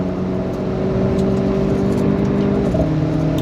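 Renault Sport RS F1 Limited Edition sports car engine accelerating hard, a loud, steady, close drone with rising tones and a shift near the end, with no voices.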